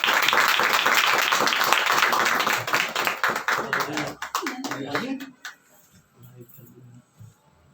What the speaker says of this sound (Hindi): हम तालियों से स्वागत करेंगे बिशप जी का।